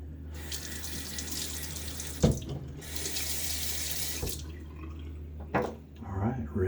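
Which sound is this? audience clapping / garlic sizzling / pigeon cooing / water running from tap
water running from tap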